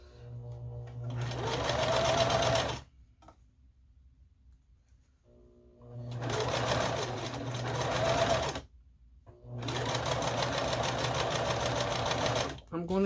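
Sewing machine stitching a scrappy string quilt, running in three long bursts of steady whirring with short quiet pauses between them, close and fairly loud, no talking.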